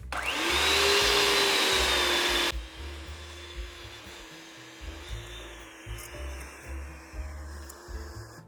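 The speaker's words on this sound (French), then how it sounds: "le batteur, on va vraiment le mettre à la vitesse maximale pour le faire travailler à fond" A stand mixer beats firm bread dough at maximum speed with a loud, close, high motor whine that cuts off abruptly after a couple of seconds, followed by quieter, steady rhythmic thumping.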